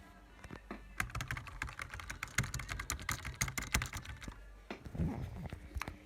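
Rapid typing on a computer keyboard, a dense clatter of key taps close by that slows and pauses toward the end with a few final clicks.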